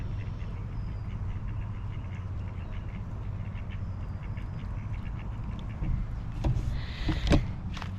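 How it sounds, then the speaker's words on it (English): Ducks quack a few times near the end, over a steady low rumble of background noise. "There's some ducks."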